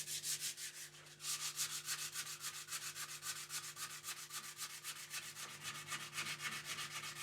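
Sandpaper rubbing on a wooden guitar neck being carved and shaped, in fast regular back-and-forth strokes that repeat steadily and close up, with a brief pause near the start.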